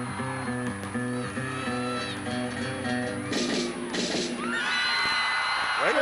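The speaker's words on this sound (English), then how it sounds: "The crowd is on their feet cheering this team on." An arena crowd at the 2002 SEC college gymnastics championships cheers and whoops loudly behind floor-exercise music, with yells from everywhere in the hall swelling during the routine.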